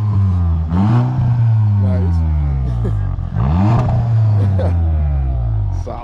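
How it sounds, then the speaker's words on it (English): A 1999 Ford Mustang GT V8 revs up close, with two sharp throttle blips that rise and fall over a rumbling idle and a short spoken remark. "Give me some revs real quick."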